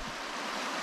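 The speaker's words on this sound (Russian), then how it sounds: "Достаточно мощно вода вытекает из Чернореченского водохранилища" Water pours powerfully out of the Chernorechenskoye reservoir, a dense, steady rushing roar that fills the short moment without any voices.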